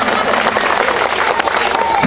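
A crowd at an orchestra performance for a Saraswati celebration claps more loudly, with sustained dense applause, some cheering and talk mixed through it.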